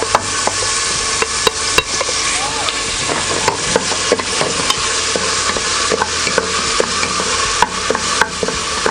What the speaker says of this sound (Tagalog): Ngayon ay pwede na nating simulang igisa itong ating bawang.